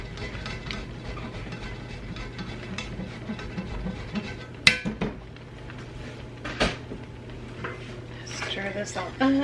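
A pot of cheesy dinner with cheddar and Parmesan being stirred, with scattered utensil clinks, scrapes and knocks against cookware over a low background hum.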